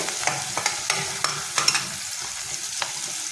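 Tomato sautéed with onions in a pan, a close, bright sizzle punctuated by quick rhythmic clicks and scrapes of a spatula stirring.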